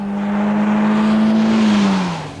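A 1996 Peugeot 406 saloon accelerates, its engine note a loud, smooth, steady drone that climbs gradually in pitch and then eases slightly near the end.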